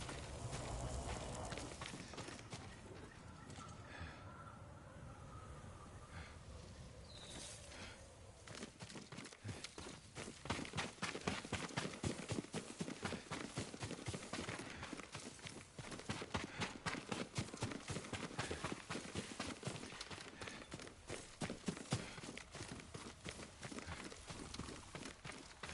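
Hooves of a horse in Ghost of Tsushima, starting faint and then turning into a fast, continuous galloping rhythm that grows louder and denser, carrying on with no voices over it.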